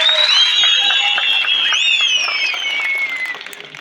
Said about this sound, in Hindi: आनंद शर्मा जी के लिए एक जोरदार तालियां लगाएं।